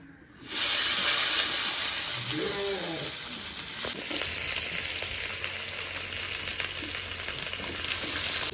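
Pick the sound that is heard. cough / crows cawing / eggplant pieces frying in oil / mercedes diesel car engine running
eggplant pieces frying in oil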